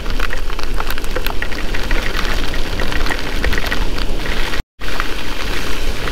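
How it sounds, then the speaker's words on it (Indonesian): Heavy rain pours down around a Polytron Fox electric motorcycle riding on a road near Cianjur, a loud, dense, continuous hiss with scattered drop impacts and a brief cut to silence near the end. "Dan ini masih tebel banget hujannya."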